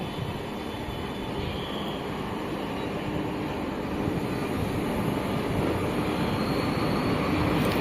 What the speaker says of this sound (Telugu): సో కాచిగూడ ఎక్స్ప్రెస్ అయితే వచ్చేసింది పుత్తూరు రైల్వే స్టేషన్కి